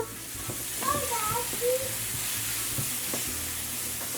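Seasoned shrimp sizzling steadily in a hot pan, with a few light stirring clinks near the start over a constant frying hiss.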